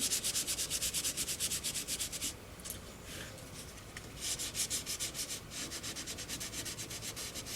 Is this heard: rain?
no